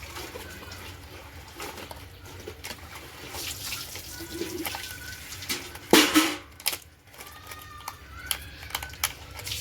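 Clothes being washed by hand with water, most likely at an outdoor hand-pump spot: steady splashing and sloshing throughout, with a louder burst of pouring water midway, then lighter dribbles and splashes.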